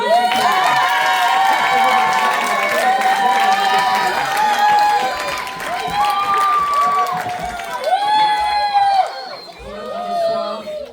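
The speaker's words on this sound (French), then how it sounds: "on l'applaudit" Concert audience applauding steadily and loudly throughout, dense clapping and cheering filling the room while a voice speaks over a microphone on top.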